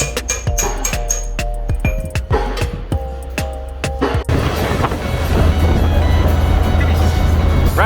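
A Volkswagen-based Karmann Safari driving along the road, its engine and road rumble steady and fairly loud, with ticking clicks early on before a broad wash of wind and tire noise takes over.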